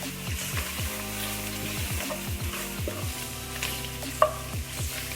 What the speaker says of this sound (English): Thyme. Stir that in.